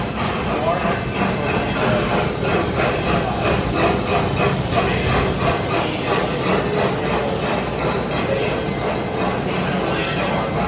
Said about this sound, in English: And I hear the train a coming.